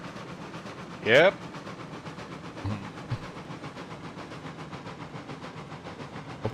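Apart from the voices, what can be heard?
steam train running, from video game Railroads Online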